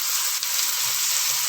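Tomatoes go into a pan of frying okra and onion, a bright continuous sizzle spitting steadily throughout, close and fairly loud with no one speaking.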